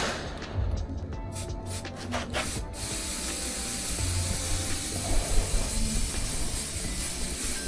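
Short hissing bursts from an aerosol spray can, then a longer steady spray, as quick-drying paint goes onto a rusty Armorgard LA750 board trolley during restoration, close and moderately loud.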